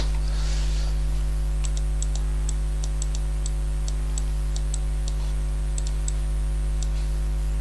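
Typing on a computer keyboard, a string of light, crisp key clicks in an uneven rhythm over a steady low electrical hum, close and fairly quiet with no speech.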